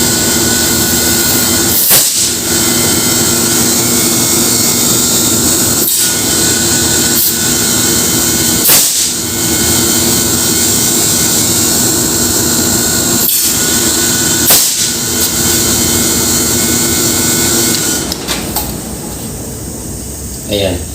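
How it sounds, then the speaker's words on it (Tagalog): Midea 5TR air-conditioning compressor running, a loud, steady mechanical hum and hiss with sharp periodic clicks or knocks every few seconds, close up, fading near the end. "Pinandar yung compressor natin. Dito siya dito. Yun o. Malakas na yung bomba niya."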